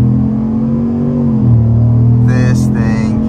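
A 2024 Chevy Silverado 1500 High Country pickup truck accelerates, its engine a loud, steady, close droning rumble that shifts pitch midway as it pulls forward, heard from inside the cabin.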